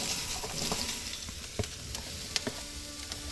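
Onion frying in a pan over turned-down heat, a steady close sizzle with a few sharp stirring taps and scrapes, no talking.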